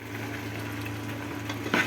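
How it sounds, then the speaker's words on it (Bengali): Chicken fries in a pan with tomato sauce while being stirred, a steady low sizzle under a continuous hum, with a brief scrape of the spoon near the end. "এখানে টমেটো সস দিয়ে ভালো করে নাড়াচাড়া করে দিচ্ছি"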